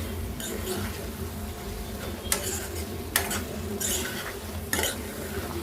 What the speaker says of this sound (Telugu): రెండు బాగా కలుపుకోండి